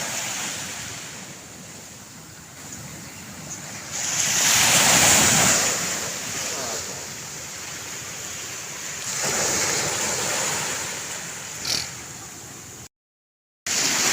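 Large sea waves surge and crash near an island shore at high tide, a loud continuous roar swelling in two big surges with heavy wind buffeting the microphone.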